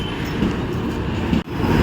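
Howrah–Dhanbad Black Diamond Express pulling into a platform, a steady close rumble of rolling rail cars filling the moment with no talk over it.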